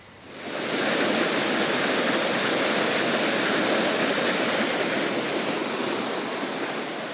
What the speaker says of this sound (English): Those streams of water coming down